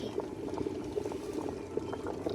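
Saag (mustard greens) bubbles in a pot over a strong fire, a continuous close simmering with irregular soft pops and gurgles.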